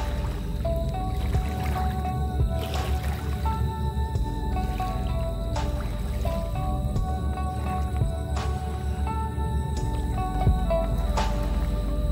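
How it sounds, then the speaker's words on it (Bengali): Ganges river water at Tarapur Dam, Phulia, laps and sloshes gently against a surface close by, with soft drips and a constant low rumble beneath. "এই জলের আওয়াজটা পাচ্ছ তোমরা শুনতে?"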